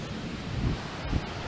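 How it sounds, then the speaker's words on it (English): Surf at a black sand beach in Hawaii rolls in as a steady, loud wash with low rumbling swells and wind noise on the microphone, no voices. "we're here at the black sand beach"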